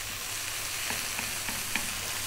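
Lentils and onions fry steadily in a pan over above-medium heat, a continuous close hiss with a few light clicks of stirring, no voices.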